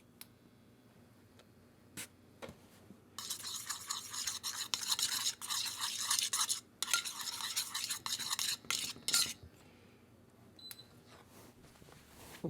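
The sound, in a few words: stirring coffee cake topping mixture with a spoon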